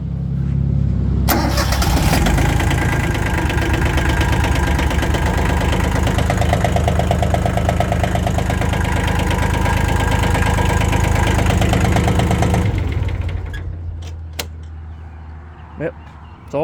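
A Kioti LB1914 compact tractor, just repaired for a wiring fault, cranks and catches, then settles into a loud, steady diesel idle for about ten seconds before shutting off, leaving quiet clicks and a few spoken words.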